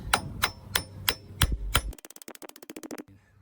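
A hammer taps on a nut threaded onto a wheel hub bolt on a Mahindra, first about six slower, ringing metallic clangs, then a quick run of roughly fifteen lighter, rapid taps, close and clear.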